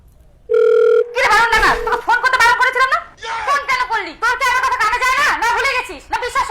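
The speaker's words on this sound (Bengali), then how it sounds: "ফোন করা যাক" A phone tone sounds in a steady beep for about a second and a half in a comedy sketch, then loud, lively voices talk over the rest.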